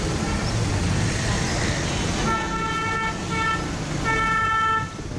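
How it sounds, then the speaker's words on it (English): Car horns honk repeatedly in busy Nepal road traffic, several short and longer toots standing out over a loud continuous wash of engines and street noise. "it seems like your hand is almost glued to the horn just to let people know where you are"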